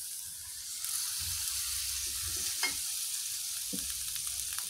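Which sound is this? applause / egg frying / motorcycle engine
egg frying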